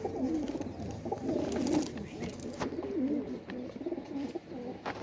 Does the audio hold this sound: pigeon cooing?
yes